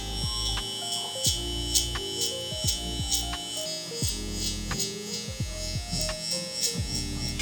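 Electric hair clippers with a 1.5 guard and closed lever buzz steadily and up close while cutting a taper haircut, their whine dipping and shifting with each short pass through the hair.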